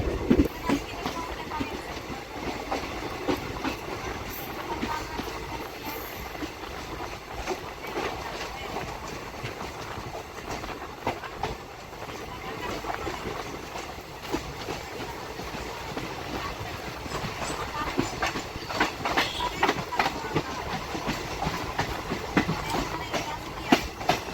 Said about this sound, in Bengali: আমাদের এই ট্রেন এখন ডিপার্চার করে নিল আমগুড়ি জাংশন থেকে